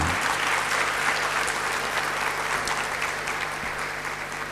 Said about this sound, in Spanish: Si quieren me aplauden